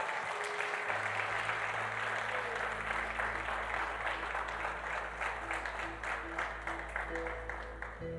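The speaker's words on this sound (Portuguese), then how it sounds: "Você pode aplaudir a Deus." Church congregation applauding during a sermon, sustained crowd clapping over a low droning organ or keyboard note, steady and continuous for several seconds.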